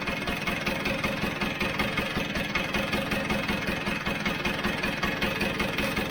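A Vespa GS scooter engine idles with a steady, even putter, close and constant throughout, with no voices.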